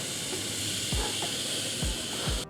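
Wagyu steak sizzles on a charcoal grill with a broad, steady hiss, broken by a few low thumps; no one speaks.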